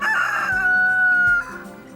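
A rooster crows once on a farm, a loud, near, drawn-out call lasting about a second and a half before cutting off into quiet background.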